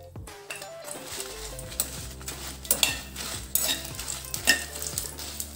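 Dried red chillies frying in a pan with a steady crackling sizzle, while a spatula repeatedly scrapes and taps against the metal close by; a low electrical hum runs underneath.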